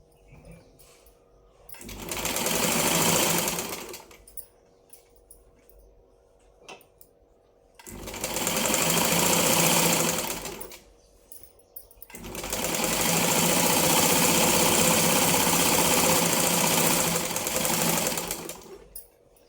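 A sewing machine stitches a double seam on a lined blouse in three runs: a short burst, a second short burst, then a longer steady run. The needle whirs close up, with quiet pauses between runs and no talking.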